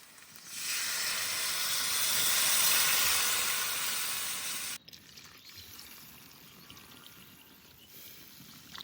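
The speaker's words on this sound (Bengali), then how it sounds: "এবার পরিমাণ মতন জল দিয়ে দেবো।" Water hits a hot pan of turmeric-spiced curry with a loud, steady rushing hiss of steam for about four seconds, then it cuts off into a quieter simmering bubble.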